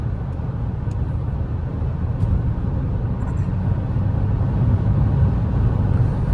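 A 2023 Fiat Cronos Precision 1.3 CVT cruising on the highway at 120 km/h gives a steady, loud low rumble of road and wind noise inside the cabin, with no talking.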